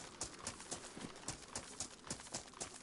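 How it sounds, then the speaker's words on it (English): Footsteps running across a shingle beach in the DayZ video game, a steady rhythmic crunch of feet on loose pebbles at an even pace, faint and continuous without any talk. "I'm trying not to run on the shingles though, 'cause it's making it a lot louder, the footsteps."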